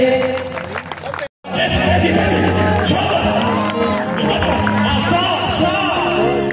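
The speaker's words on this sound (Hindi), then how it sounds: "जोरदार तालियां बजाते रहे भाई" Spring festival audience cheering at a Jashan-e-Baharan celebration, a loud, dense crowd din of shouts, whoops and chatter that holds after a brief cut, with voices talking over it.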